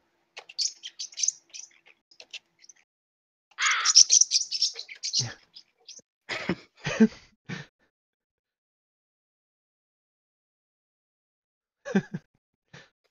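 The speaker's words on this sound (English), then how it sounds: "Are you doing the crow sounds through Roll20?" Crow caws and bird chirps played as a sound effect during an online tabletop role-playing session, coming in short bursts with gaps of silence between them.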